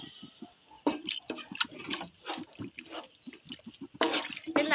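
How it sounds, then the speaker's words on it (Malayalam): Salty water saved from boiling mussels is poured into a simmering masala, giving uneven splashing and bubbling bursts, some louder than others, in a quiet kitchen. "കല്ലുമ്മക്കായ പുഴുങ്ങും നേരം കിട്ടുന്ന കുറച്ച് ഉപ്പ് വെള്ളം നമുക്കിതിലേക്ക് ചേർത്ത് കൊടുക്കാം"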